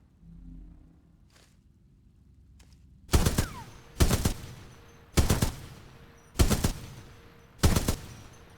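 Gunfire during Titanfall 2 weapons training: after a quiet start, five loud, sharp single shots ring out at roughly one-second intervals, each trailing a short reverberant decay.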